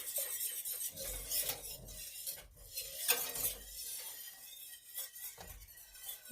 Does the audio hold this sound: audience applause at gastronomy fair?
no